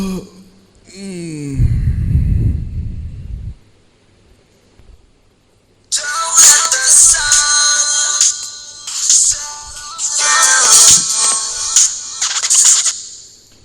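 An incoming call's phone ringtone in a devotional stage drama: after a brief low vocal murmur and near silence, a loud, bright melodic ringtone plays on and off for about eight seconds, with no talk over it.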